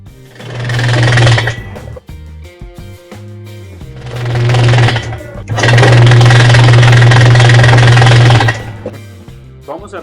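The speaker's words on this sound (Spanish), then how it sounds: "Esta es una lavadora Whirlpool que en el ciclo de centrifugado no está moviendo la canasta y sí tiene un" Loud mechanical grinding and rattling from a Whirlpool washing machine that fails to spin its basket during the spin cycle, coming in three long bursts separated by quieter humming pauses.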